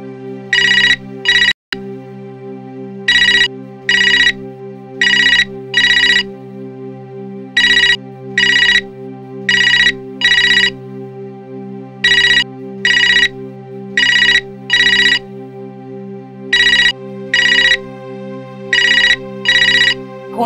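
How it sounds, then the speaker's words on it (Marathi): A telephone rings on and on without being answered, a steady electronic ringtone in regular paired bursts with short gaps, loud and close, over a constant low hum. "फोन का उचलत नाही आहे?"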